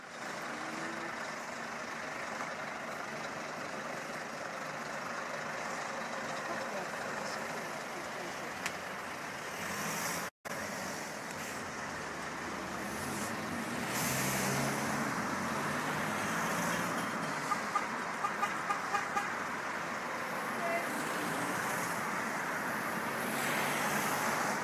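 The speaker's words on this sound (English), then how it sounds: "Lots of these lorries about." Heavy lorries rumble past on a nearby road in a steady, continuous wash of engine and tyre noise, broken by a brief dropout partway through and swelling slightly louder toward the end.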